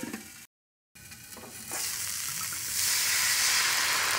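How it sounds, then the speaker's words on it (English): Broccoli sizzles steadily in a hot wok during a stir fry, a continuous bright crackle that grows louder and denser after a brief silent gap, with no voices. "Put the broccoli in. And I'm going to let that cook down just a few minutes to soften"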